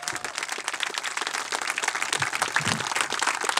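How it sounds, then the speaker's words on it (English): An audience at a Tour for Kids charity cycling event in Ontario claps in a short burst of applause, moderately loud and continuous for a few seconds with no talking over it. "Round of applause, guys."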